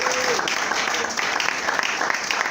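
A church congregation at a seminar applauds steadily, a dense, even clatter of many hands clapping that holds at full strength throughout, with the room's crowd filling the space.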